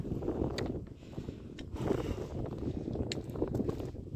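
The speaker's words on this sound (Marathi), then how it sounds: "तसं आपल्याला वारा चालू झालेला आहे." Wind blows steadily across a hillside on the steep final climb to Takmak Fort, making a constant rough buffeting rush with brief gusts against the microphone.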